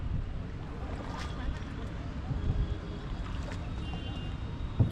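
A boat chugs across the water near a bridge on the way to Hatakeshwar temple in Raipur, a steady low rumble with wind noise and occasional small knocks.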